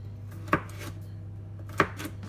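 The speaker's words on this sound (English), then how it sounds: "I've started by cutting into carrot sticks, and then I can turn it around, chop like this" Two sharp knife chops through carrot on a cutting board, spaced about a second apart, close and crisp over a low steady hum.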